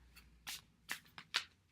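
Tarot cards are shuffled by hand in several quick, crisp bursts of riffling and sliding, close and fairly quiet, with short pauses between them.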